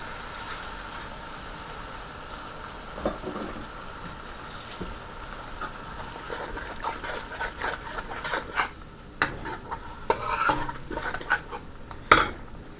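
Ground blended seasoning frying down in a pot for chickpea curry, with soft sizzling under scattered scrapes and clinks of a utensil stirring against the pot, growing busier toward the end; no talking.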